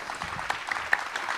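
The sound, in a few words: audience applause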